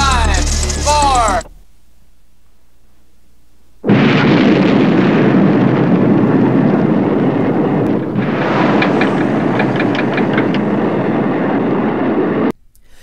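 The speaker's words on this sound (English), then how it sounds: "As the missiles launch" Nuclear missiles launching in the film The Day After: a short voice, a silent gap, then a massive sustained roaring rocket blast lasting several seconds, swelling again midway before cutting off abruptly.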